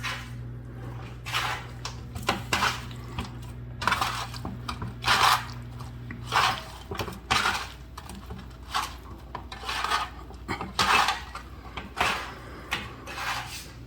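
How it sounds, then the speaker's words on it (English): Roasted broccoli and sausage being tossed by hand in a pan, giving repeated soft rubbing, scraping and clattering bursts at an irregular rhythm, close and fairly quiet, with a low hum in the first half. "Now I'm going to mix this up"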